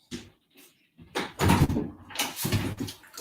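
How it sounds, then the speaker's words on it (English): A door swinging shut indoors at home, heard as a few separate knocks and clunks with quiet gaps between them, moderately close and with no voices. "Close doors."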